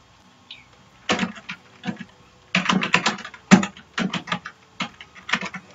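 Keyboard typing on a computer while entering text in a Microsoft Word document, with bursts of quick clattering keystrokes separated by short pauses, close and clear with no talking.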